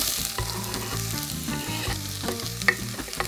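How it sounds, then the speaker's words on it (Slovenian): Chopped onion fries in hot oil in a pot, giving a close, continuous crackling sizzle with quick pops and the scrape of stirring. "Malo popražimo"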